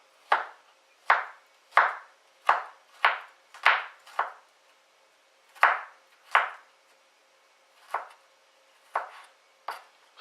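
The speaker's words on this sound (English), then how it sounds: "Okay, chopping the garlic up." A knife chops garlic on a cutting board in a kitchen, about a dozen sharp close knocks in an uneven rhythm with short pauses between runs, no talking.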